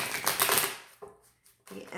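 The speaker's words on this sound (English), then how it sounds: "I don't normally have a problem shuffling my cards" Tarot cards shuffled in quick riffling bursts, loud and close at first, then pausing briefly before the crisp flutter resumes; a voice speaks alongside.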